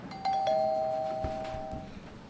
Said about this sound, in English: First, let's see this new house doorbell.